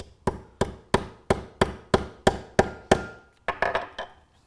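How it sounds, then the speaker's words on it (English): A hammer taps a magnetic snap rivet seated on a dot anvil: about nine sharp, evenly spaced metallic knocks, close and moderately loud, followed by a quicker cluster of lighter taps. "I'm just making sure that it's sitting on top of the concave side of the dot anvil, and then I'm going to hit it lightly"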